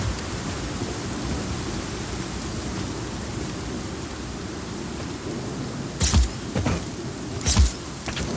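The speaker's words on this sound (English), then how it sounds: "Storm's rolling in." Stormy weather in Just Cause 4, a steady wash of rain under a low rumble, with two sharp thunder cracks rolling in near the end.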